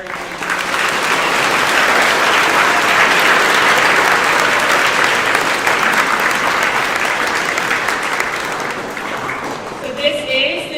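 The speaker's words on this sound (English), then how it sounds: "So if we could have one more round of applause for everyone." An audience at a middle school Veterans Day program applauds in a gym with bleachers, producing loud sustained clapping that holds steady and then thins out near the end.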